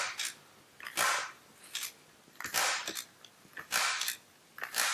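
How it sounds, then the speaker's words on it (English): A staple gun fires staples into fiberglass duct board: about six sharp, loud snapping shots spaced roughly a second apart, close by and with no talk. "Take your handy staple gun. Staple approximately every 3 to 4 inches."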